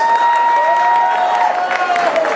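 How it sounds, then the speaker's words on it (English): Audience applause at a political event, a brief burst of dense crowd clapping and cheering, loud and close, with a sustained tone running beneath it. "give him a round of applause"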